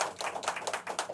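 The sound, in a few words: congregation clapping hands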